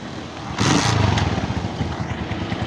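A 2017 Honda CG125 motorcycle engine kick-starts on the first try with a sudden burst of noise, then settles into a steady, even idle nearby.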